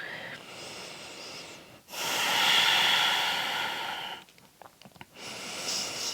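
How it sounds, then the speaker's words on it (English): Slow Ujjayi breathing through the nose during an Ashtanga yoga practice, with the throat contracted: a soft whooshing hiss on each breath, several long inhales and exhales close up, with a brief gap in between, and no talking. "So if you practice Ujjayi breathing, then please use it."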